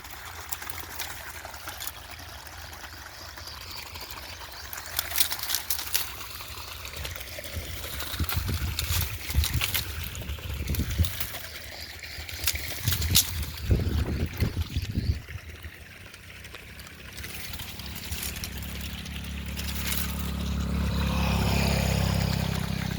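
A buffalo-trampled irrigation pipe in a field gushes water, a nearby rushing, splashing flow that surges in uneven bursts and rises into a steadier roar near the end.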